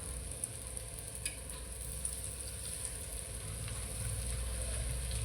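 Colocasia leaf rolls (alu vadi) shallow-fry in a pan with a soft, steady sizzle and occasional faint crackles, even and close, with no talking.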